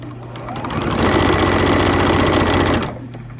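A sewing machine runs steadily for about two seconds, stitching strips of bias binding together for a quilt binding. The whirring motor and rapid needle rhythm sit close and loud, easing in and trailing off at the ends, with no talking.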